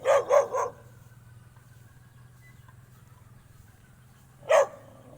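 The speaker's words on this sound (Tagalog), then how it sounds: "Kumakawal na yung aso." A dog barks three times in quick succession, then falls quiet over a low hum before one more sharp bark.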